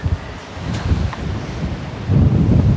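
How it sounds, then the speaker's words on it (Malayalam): Strong wind blows at a hilltop viewpoint in Munnar, buffeting the microphone in low, uneven gusts that swell louder toward the end, with no speech. "നല്ല കാറ്റുണ്ട്"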